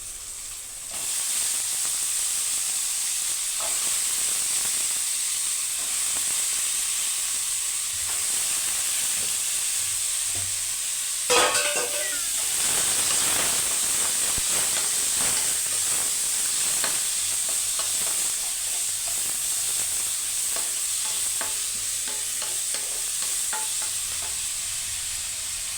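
Cut green eggplant frying in a hot pan, a steady loud sizzle and hiss running throughout with repeated stirring scrapes, a brief sharper burst of spattering near the middle.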